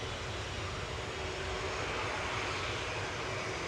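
A heavily loaded TUI jet takes off at Manchester Airport, its engines making a faint, distant, even rumble and hiss that continues unbroken.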